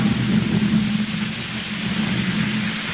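A steady wash of rain with a low thunder rumble forms a continuous dense hiss and low roll from an old radio drama sound effect, set outside a tent at night, with no voices.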